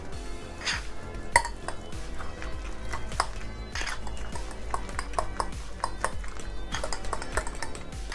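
A fork mashes banana into warm steel-cut oats in a bowl, giving repeated close clinks and scrapes against the dish in an irregular rhythm, with no talking.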